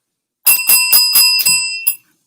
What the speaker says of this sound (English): let's ring that bell for us